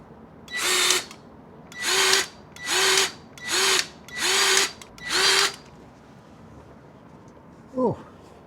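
Grease gun pumping grease into a Jeep Gladiator driveshaft, six loud, evenly spaced mechanical bursts about a second long each, then a short squeak near the end.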